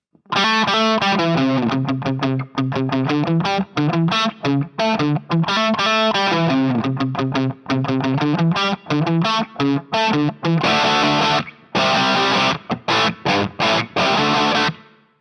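Distorted electric guitar playing chords and riffs through an amp head on a plexi preset, loud and sustained with a roomy reverb tail, ending in choppy strummed stabs.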